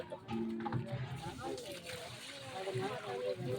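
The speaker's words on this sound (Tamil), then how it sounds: "நல்லா தண்ணி போகிற மாதிரி நல்லா வடிச்சிருங்க." Water sloshes and splashes as it drains from a large batch of boiled rice for chicken biryani, a steady close wet pour running throughout under background speech.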